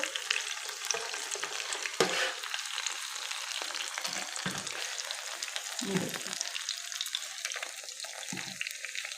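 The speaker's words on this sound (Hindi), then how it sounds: "इनको भी तकरीबन हल्की आंच पे हमने इस तरफ से भी फ्राई कर लेना है।" Potato pizza cutlets frying in a pan over low heat, a steady close sizzle with occasional scrapes and clinks from turning them, with no talking.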